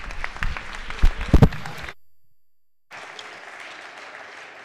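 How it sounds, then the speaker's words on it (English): Applause in a state legislative chamber during a House floor session, honoring taxpayers, with a few close thumps and claps, then a short silent gap before soft, steady clapping resumes. "let's give them a big round of applause"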